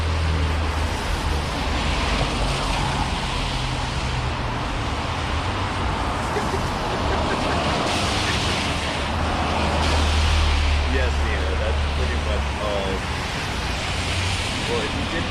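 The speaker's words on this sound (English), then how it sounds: "Cars approach here at a certain death speed." Cars speeding along Denny make a steady, loud roar of passing road traffic mixed with wind buffeting, swelling briefly partway through before settling back.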